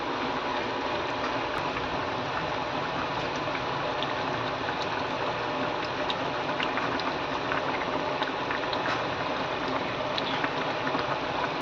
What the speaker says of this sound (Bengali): ঝোল আমার ফুটে গেছে